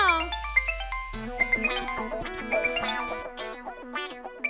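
A mobile phone rings with an incoming call in a Hindi TV drama household scene, playing a melodic ringtone of stepped, chiming tones that carries on steadily for several seconds at moderate loudness with no talking over it.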